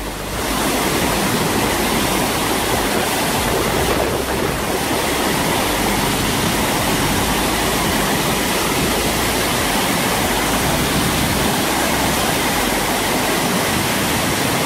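The Baume-les-Messieurs cascades in the Jura roar as a steady, loud, dense rush of falling water, close and unbroken throughout, with no voices.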